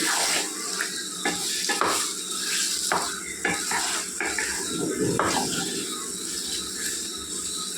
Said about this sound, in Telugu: పులుసు పోసి కలుపుకోవాలండి